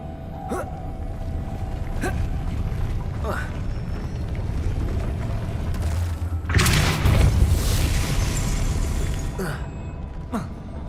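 Depulso spell cast in the Hogwarts Legacy video game: a sudden loud whooshing burst about two-thirds of the way through, over steady game ambience with a few faint clicks beforehand.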